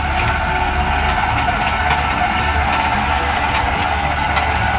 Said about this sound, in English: he's raising the stabilizer jacks